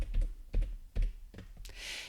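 Computer keyboard keys pressed in a few distinct taps, close and fairly quiet, spaced about half a second apart, a spreadsheet shortcut being keyed with no talking.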